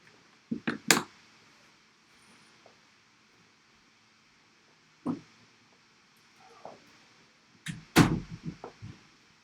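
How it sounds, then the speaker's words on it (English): A door being shut indoors during a live online presentation, giving a few sharp thuds and knocks near the start, a single bump midway, and a louder cluster of slam-like impacts toward the end, with quiet room tone in between. "Let me shut this door."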